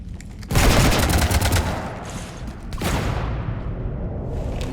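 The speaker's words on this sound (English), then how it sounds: "You want to stop shooting up my ship?" Heavy gunfire shoots up a ship in the video game Mass Effect 3, with two loud sustained volleys of rapid shots and booms separated by a slight dip, close and dominant with no talk.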